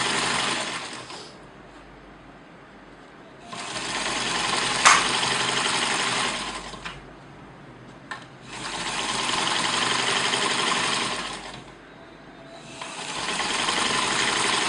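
A sewing machine runs in three long, even bursts with short pauses between them as it stitches two equal lengths of fabric together, close and steady with no talking.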